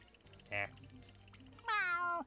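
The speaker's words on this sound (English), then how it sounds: "Meow." In the SpongeBob: Battle for Bikini Bottom Rehydrated game, Gary the snail lets out two clear meows, a short one and then a longer drawn-out one, over quiet game ambience.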